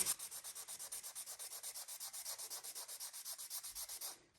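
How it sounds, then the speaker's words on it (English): Sandpaper rubbed by hand over a thrifted wooden piece, a steady run of about twenty quick, even back-and-forth strokes, close and fairly loud with no talking, stopping near the end. "So I'm going to sand it down and hopefully lighten it up and get some of this yellowy tone out"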